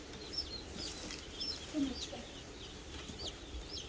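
Chickens cluck softly on a homestead, a few short calls scattered over a faint background, distant and quiet with no clear talk.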